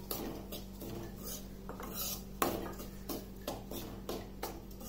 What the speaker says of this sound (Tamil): இந்த சூடான நெய்லேயே நான் ரவாவை ஆட் பண்ண போறேன்.